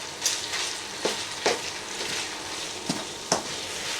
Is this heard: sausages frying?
yes